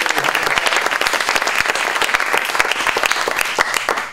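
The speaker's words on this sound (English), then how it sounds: "So how about a nice round of applause for this?" An audience at a WestSide Stories storytelling event breaks into dense, loud applause, steady clapping from a crowd sustained throughout.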